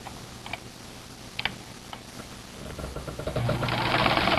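A sewing machine stitches a knit neckband onto a t-shirt, starting with a few sparse ticks and clicks, then running into a steady, louder mechanical whir toward the end.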